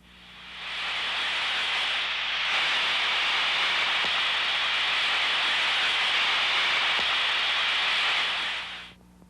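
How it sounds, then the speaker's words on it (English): Rushing white-noise hiss of a leak at heat exchanger fittings such as valves, piping and flanges, picked up through an ultrasound probe, steady and fairly loud for several seconds before cutting off. "scan for a rushing sound or white noise."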